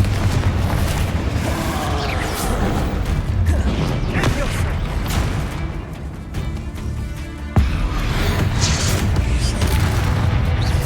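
Spell blasts from Confringo and Diffindo cast in the Hogwarts Legacy video game, a dense run of booming, crackling impacts with sharp bursts around the middle and a loud hit near the end, continuous and fairly close.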